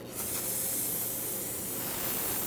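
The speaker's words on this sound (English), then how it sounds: "I'm gonna spray it all down with brake parts cleaner so that it can dry up" A steady aerosol spray of brake parts cleaner hisses continuously from a can up close onto a 2008-2010 Ford F-250 6.4L diesel fuel filter area, a loud even rush of air with no voices.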